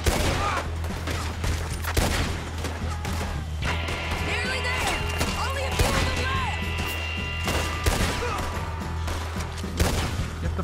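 Semi-automatic gunfire in the Western shooter Red Dead Redemption 2, a busy battle with rapid cracking shots, impacts and crashes throughout, loud and close over a low rumble.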